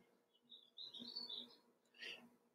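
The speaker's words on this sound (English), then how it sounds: "that's our birds, yes." Small birds chirp and tweet indoors in a short series of high, bright calls, one burst after another with a louder cluster near the end, faint against a quiet room.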